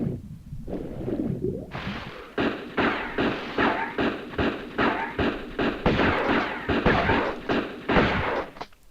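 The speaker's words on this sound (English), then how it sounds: "we can kill him relatively quick with our shotgun" Shotgun blasts in the Tomb Raider video game, a rapid series of about a dozen loud booming shots at a steady rhythm, each followed by a short rumbling decay, with no talking.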